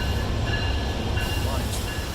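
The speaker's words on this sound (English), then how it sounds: "That's an A-line train right there." An RTD A-line commuter train in Denver passes close by as a steady, broad rumble with low-end roar and faint metallic hiss, continuous throughout with no break.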